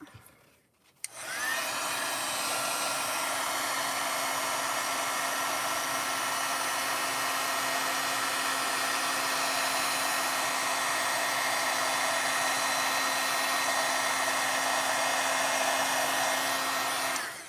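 A heat embossing tool blows hot air onto stamped embossing powder, switching on after a brief click and holding a steady, close whirring hum like a small hair dryer, with no talk.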